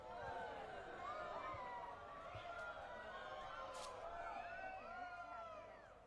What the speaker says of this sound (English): those are the sounds of the crowd doing the waves